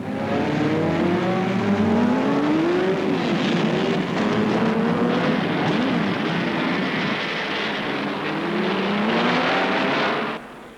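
Racing cars at the British Grand Prix in an old newsreel, including a BRM and Italian Alfa Romeo and Ferrari entries; loud engines roar past continuously, with rising and falling pitch as cars sweep by, then cut off abruptly at the end.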